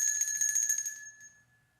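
A bell rings in a radio drama with a quick, bright metallic trill lasting about a second, then fades out quietly with no voices.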